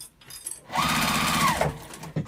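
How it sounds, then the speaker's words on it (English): A sewing machine stitches a zipper onto a fabric pouch, its steady, rapid mechanical whir running close and loud for about a second before stopping, with a short click at the end. "Okay, I'm sewing that zipper on"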